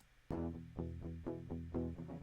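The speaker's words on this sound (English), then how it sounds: "So we got these crunchy guitars," Dry, distorted guitar chords strummed in a steady rhythm, each chord ringing out before the next, with no effects.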